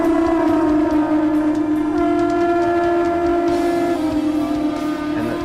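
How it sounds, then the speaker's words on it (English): Conch shells blown at a roadside stop during the Monster Energy Rip to Cabo motorcycle ride, a loud sustained droning blast with steady overtones holding for several seconds, no voices. "To have the bike stop there and the conch shells start going off."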